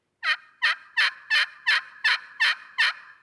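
Eight evenly spaced turkey yelps from a friction call worked with a striker, each note sharp and raspy with a quick drop, rising in a steady rhythm close up against silence.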